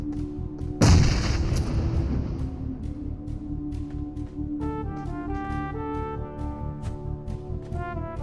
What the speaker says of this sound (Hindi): अब इसके ऊपर हम ग्रेनेड करते हैं।